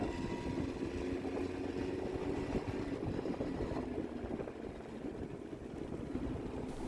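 A small Hyosung Sense scooter engine in bad shape idles steadily with a low, continuous putter and slight fluctuations, heard from close by.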